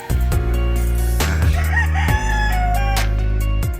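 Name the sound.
chicken crowing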